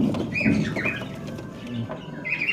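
Pigeons in a pigeon and aquarium fish shop in Purba Medinipur, soft cooing and a few chirps close by over a busy low background.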